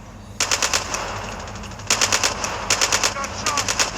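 Rapid automatic gunfire in a Call of Duty match, loud bursts of machine-gun fire in quick rhythmic runs separated by brief pauses, over a steady background hum.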